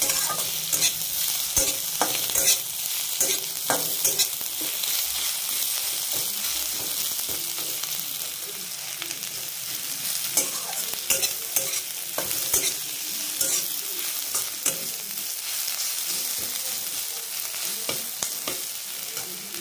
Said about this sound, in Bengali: ভাজাতে একটু লাল লাল হয়ে যাবে পেঁয়াজটা